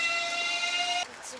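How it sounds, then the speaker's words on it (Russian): A passing train near Moscow's VDNH grounds gives a steady rushing roar with whining tonal overtones, which drops away sharply near the end as it moves off. "Проехал поезд."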